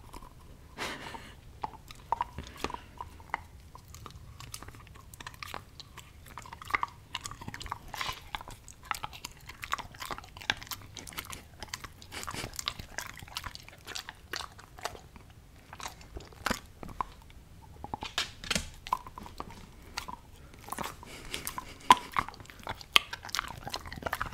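A dog chews and crunches a hard treat up close, with irregular crisp bites and cracks continuing steadily for a long stretch.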